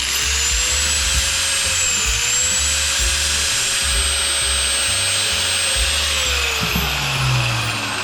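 An angle grinder powered by a budget portable power station whines steadily at high speed, loud and close, with a constant motor drone and a slight dip in pitch partway through.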